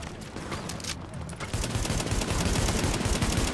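Sustained rapid gunfire from a weapon in The Division, dense repeated shots building louder and continuing steadily, with a few sharper cracks earlier.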